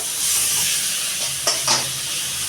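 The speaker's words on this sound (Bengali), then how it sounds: "চিকেনের মশলা কষাতে শুরু করে দিয়েছি" Chicken masala stir-fried in a pan gives a steady close sizzle and hiss with a couple of brief stirring scrapes, moderately loud, no talk.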